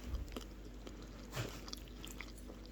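Close, quiet chewing and biting of crispy beef sausages with melted cheese and mild curry, with a few soft crunches and a louder bite near the middle over a low steady hum.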